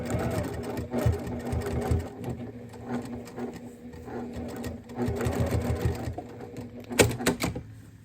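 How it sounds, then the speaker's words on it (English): A domestic sewing machine stitches a tab flat at the end of a fabric cord wrap, running in steady bursts with brief pauses and a few quieter moments. "I can just stitch that down flat here at the end"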